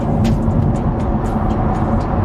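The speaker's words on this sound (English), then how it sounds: "The Aventador SVJ, or Super Veloce Jota, is the ultimate Lambo" Lamborghini Aventador SVJ supercar engine while driving, a loud, continuous rumbling drone heard from inside with steady road and wind noise, no pauses.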